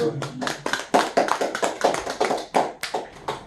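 Scattered hand claps from a small audience at a poetry and literature therapy session, about a dozen distinct close claps in a loose, uneven rhythm rather than a dense roar.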